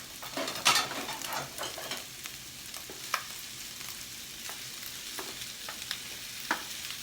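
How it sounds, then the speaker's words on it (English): Meat and fried rice stir-fried in a wok for combination fried rice, a steady close sizzle with scraping stirs and occasional spatula taps, no talking. "I'm adding my meat back in, all of it."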